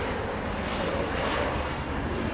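An Embraer E175 jet at Los Angeles International Airport gives a continuous, loud broadband engine roar, steady throughout with no talk.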